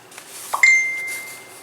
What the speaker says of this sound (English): that was my phone. I thought I put it on mute, but I guess I didn't.